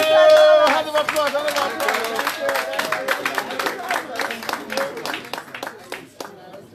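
A town hall meeting and fundraiser audience in London claps in a steady crowd ovation, rhythmic slaps audible beneath overlapping music or voices, tapering toward the end.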